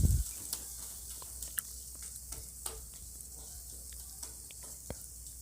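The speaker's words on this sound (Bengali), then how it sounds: "ভালো করে আবার নেড়ে নিলাম।" Chicken tikka gravy thickened with melon seed paste and garam masala gets stirred in a pan, giving a soft steady sizzle with scattered light scrapes and ticks of the spoon, close and quiet, with no talking.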